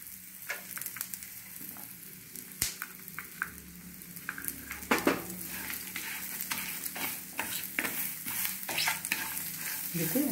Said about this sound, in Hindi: देखिए हमको इसको 2 मिनट भूनना है।